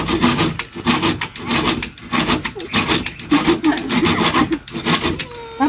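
Hand saw cutting through wood while building a house for charity, a steady rhythmic rasp of repeated push-pull strokes, close and loud, with a few brief voices.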